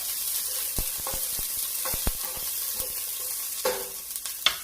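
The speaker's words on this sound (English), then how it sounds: "We're going to cook this celery so it's nice and translucent. Give it a nice little stir, just like that." Celery sautés in a pot with a steady, close sizzle, broken by a handful of sharp scraping knocks and clatters as a utensil stirs it, with no talking.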